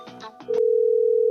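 A telephone tone sounds: a steady, loud electronic tone that starts abruptly after a short burst of voices and holds unbroken to the end.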